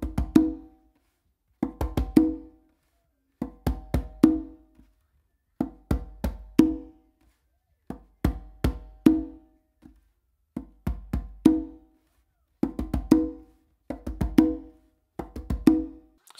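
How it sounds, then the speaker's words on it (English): A conga is played in a speed bass tumbao exercise, two quick deep bass hits followed by an open tone from the non-dominant hand, repeated in steady, evenly spaced groups with short pauses between them, close and unaccompanied. "quick two bass hits and then an open with your non-dominant hand on the conga"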